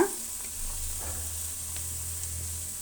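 Onion frying in a pan for village-style chitranna, a steady soft sizzle with faint stirring, low and continuous throughout without voices.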